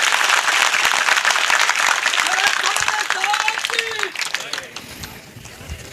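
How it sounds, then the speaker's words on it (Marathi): Audience applause at a bhoomi pujan groundbreaking ceremony, dense steady clapping that fades out near the end with voices and chatter mixed in. "आपण सगळ्यांच्या वतीनं एक जोरदार या धाडस केल्याबद्दल जोरदार एकदा टाळ्या"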